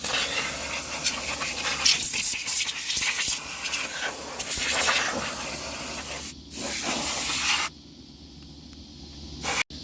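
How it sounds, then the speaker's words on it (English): Compressed air blasting sand and grime out of a 2015 Toyota Highlander driver seat's recline and lumbar mechanism, a loud continuous hissing spray with rough scratchy fluctuations, briefly cutting out twice near the end. "It's going to blow out some of the sand."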